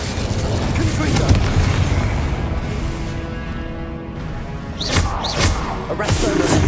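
Confringo blasting curse explosions in Hogwarts Legacy, heavy rumbling booms amid continuous battle noise, with a few sharp bursts and whooshes near the end and spoken voice lines mixed in.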